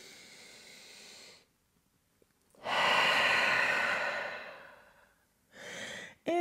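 A deep exhale during the yoga eagle pose, Garudasana: a long, breathy rush of air lasting about three seconds, close and clear, framed by softer breaths before and after in a quiet room.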